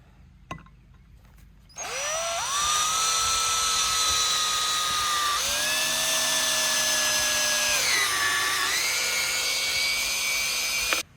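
A power drill in low gear drives a self-tapping screw into a pergola saddle bracket: after a few faint clicks the motor whines up, holds a steady pitch, and dips as the screw bites before stopping.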